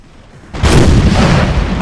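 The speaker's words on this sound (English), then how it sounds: "we should be able to get a good old-fashioned canister shot" Canister shot fired from artillery in a historical battle video game, a single loud close boom that bursts in and rolls on as a sustained roar of blast and debris.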